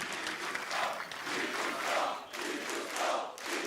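A large arena crowd at an ESL One 2015 Katowice CS:GO quarterfinal roars and cheers for the Polish team, a dense continuous swell of voices that rises and falls in waves throughout.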